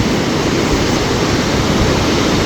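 Flooded river on New Zealand's South Island West Coast rushing after days of rain, a loud, dense, unbroken roar of water filling the whole clip.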